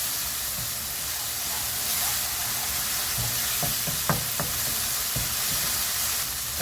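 Chicken with ground ginger frying in a pan on high heat, a steady close sizzle with occasional pops and crackles, no voice.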